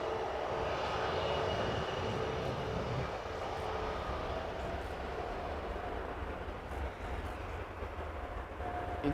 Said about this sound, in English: 787-10 Dreamliner going to Chicago, lining up on the runway